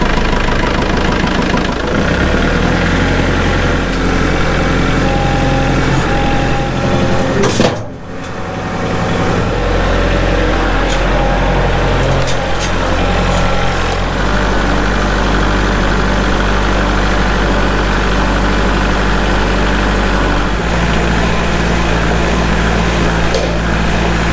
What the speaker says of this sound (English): let's see if we can get some mowing with the tractor done